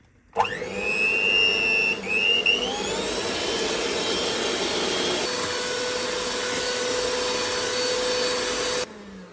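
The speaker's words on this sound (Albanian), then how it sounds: "E tundim me mikser derisa të bëhet një masë kremose." Electric hand mixer beating eggs with vanilla sugar and sugar, a loud close whirring drone that starts abruptly, dips in pitch once, then runs steady for several seconds before cutting off.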